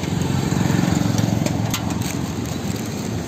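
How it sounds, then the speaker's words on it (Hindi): Steady engine drone and traffic noise on a busy main city road, with a motor idling nearby, continuous and fairly loud throughout with no talking. "मेन रोड है ना, ये हमारी सिटी की मेन रोड है, इसलिए काफ़ी शोर आ रहा होगा"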